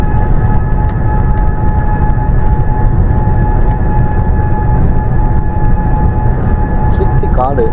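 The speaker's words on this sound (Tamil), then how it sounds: "ஃப்ளைட்டு வந்து லேண்டிங் ஆக போகுது" Aircraft cabin on final approach into Kuala Lumpur airport after a flight from Singapore, with a loud steady engine roar and low rumble throughout and a faint whine rising near the end.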